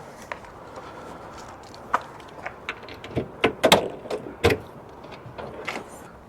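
A used budget runabout car's boot being opened: a string of light clicks and mechanical clunks, with a few sharper latch-like knocks in the middle, close and fairly quiet, no talking.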